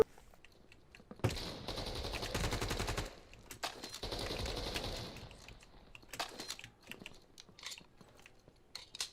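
Rapid automatic gunfire in the shooter Battalion, two long sustained bursts followed by scattered single shots and clicks, loud and up close with no talking.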